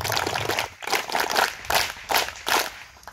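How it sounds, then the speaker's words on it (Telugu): Students at a school prayer assembly give three cheer claps in unison, a series of sharp group clap bursts in a rhythmic pattern, loud and close with some room echo. "సో వాళ్ళకి ఒకసారి 3 చైర్ క్లాప్స్ కొడతామా?"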